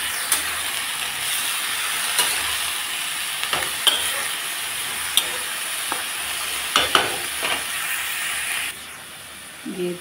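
Cabbage and small cut potatoes fry in a pan with a steady hiss and sizzle, punctuated by sharp spoon scrapes and taps as they are stirred.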